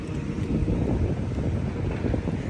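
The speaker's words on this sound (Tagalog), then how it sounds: "Hangin ra." Wind gusts buffet the microphone at an outdoor bus stop, producing a loud, continuous low rumble and roar with no voices.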